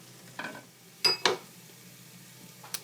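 Tomato paste stirred into a cooking pot for chorba frik: a handful of distinct scraping and clinking utensil strokes against the pot, close, with quiet gaps between.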